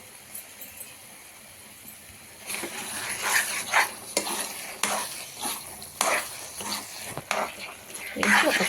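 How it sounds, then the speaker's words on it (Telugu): A spoon scrapes and clinks against a pan as bread halwa is stirred together with khoa over a medium gas flame, a series of irregular knocks and scrapes that grows louder midway. "వేసేసుకొని బాగా మిక్స్ చేసేసుకుందాం అండి"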